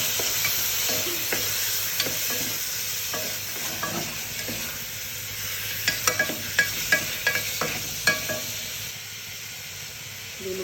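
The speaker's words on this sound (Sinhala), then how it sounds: "එතකොට අපි චිකන් ටික එකතු කරනවා." Chicken pieces frying in a butter tempering for creamy chicken soup, a steady loud hissing sizzle throughout with occasional utensil clicks and scrapes, clustered taps near the middle, close with no talking.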